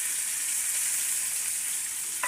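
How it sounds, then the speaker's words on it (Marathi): Ginger, garlic and chillies sizzle steadily in hot oil in a pan. The frying hiss is continuous and even throughout, with no talking over it. "आलं, लसूण आणि मिरची पण फ्राय करून घेऊयात."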